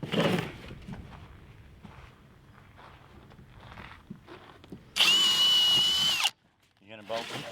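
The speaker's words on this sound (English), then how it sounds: "Drill some holes." A power drill bores holes into fittings aboard a boat under construction. One loud high-pitched burst runs for about a second and a half after quieter handling noises and footsteps, and a voice is heard near the start.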